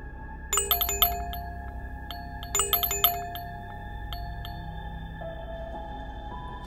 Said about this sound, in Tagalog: narinig ko ang doorbell na tumutunog.